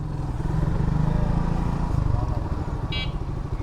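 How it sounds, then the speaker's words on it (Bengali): A motorcycle engine putters steadily at close range as the bike is ridden in at a site in Bogura, Bangladesh, its low idle-like thrum running throughout with a brief clatter near the end. "যাক বাইক একবারে ঢুকাই দিই।"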